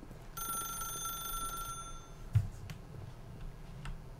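A telephone rings in The Stanley Parable, a steady electronic bell tone lasting about a second and a half over a quiet room-tone background, followed by a few soft clicks and a thud.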